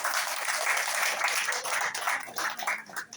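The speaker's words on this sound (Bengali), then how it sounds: "যারা নতুন আসছেন তাদের জন্য একটা সেরকম করতালি দিন।" A seated audience at an Islami Life Insurance training session gives newcomers a round of applause: dense, even clapping from many hands that carries on for a few seconds and starts to thin near the end.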